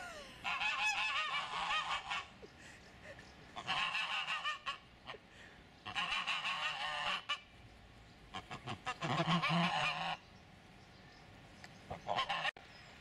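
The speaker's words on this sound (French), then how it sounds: "Quelques oies vont-elles nous faire bon accueil?" Geese honk repeatedly in loud, raucous bursts, several birds calling over one another with short pauses between the clamorous rounds, in Cany-Barville, Seine-Maritime.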